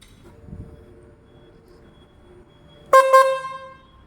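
A loud aftermarket electric horn fitted on a Hero Xtreme motorcycle blares in two short harmonic honks near the end, after several seconds of quiet background murmur.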